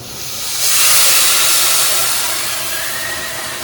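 Birria sauce hits a very hot pan with a loud, rushing sizzle and steam hiss that swells quickly and then settles into a steady, close roar.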